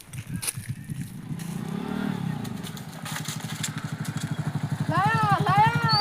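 A motorcycle engine runs and revs steadily with a rhythmic pulsing throb that grows louder toward the end, while a high chirping sound enters in the final second.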